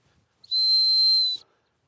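One sustained sit whistle for dog training sounds close and loud, a clean piercing tone lasting nearly a second before stopping cleanly, with near silence around it.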